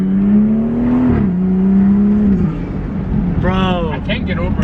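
A BMW engine fitted with an MST intake revs up and settles, a loud close droning tone that climbs and dips in steps, with someone talking over the end.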